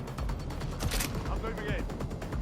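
Gunfire in the video game Watch Dogs Legion: a dense run of shots under steady game sound and speech, with a brighter burst near the middle of the clip.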